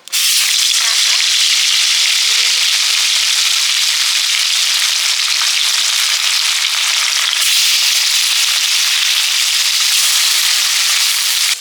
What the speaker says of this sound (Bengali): মাছ ভাজা তো শুরু হয়ে গেছে